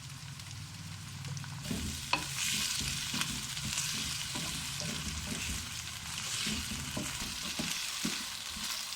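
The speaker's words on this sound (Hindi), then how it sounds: "आलू को भी थोड़ा सा फ्राई करेंगे" Potatoes frying and being stirred in a pan with browned onions for a mixed vegetable dish, a steady sizzle with scraping spoon strokes and clatter throughout, close and moderately loud, no voices.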